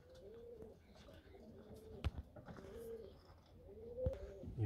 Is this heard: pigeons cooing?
yes